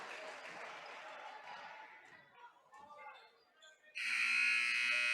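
Loud, sustained buzzer sounding at the end of the third quarter of a high school basketball game, breaking in after crowd noise and commentary fade, then holding steady to the end.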